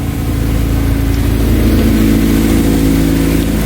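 Swapped Ford EF engine running with an open header, a loud, close, rough idle with a throbbing low exhaust rumble and slight rising revs, no talking.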